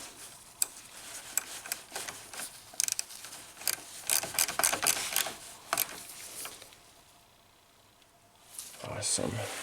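A ratchet clicks in short bursts while tightening a bolt on the alternator of an Acura TSX, close and fairly quiet, with brief pauses between rounds of clicking.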